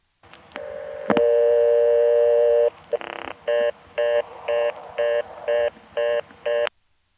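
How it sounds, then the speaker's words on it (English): A 1976 telephone line in Tidewater, Virginia gives a long steady tone, then a long-distance call is dialed as a rapid, even series of eight short touch-tone beeps. The beeps are loud and close, with no talking. "Let's dial 1 again."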